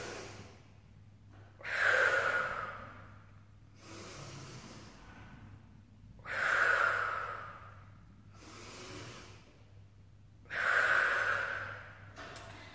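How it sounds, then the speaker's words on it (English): Slow, deep breaths drawn into the rib cage during a tummy-tightening exercise, three long airy inhales spaced evenly several seconds apart, close and alone with quiet gaps between. "So breathe in."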